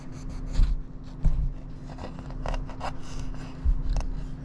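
A knife slicing the cheeks off a lime on a cutting board, with a few soft, close rubbing and scraping cuts over a low steady hum.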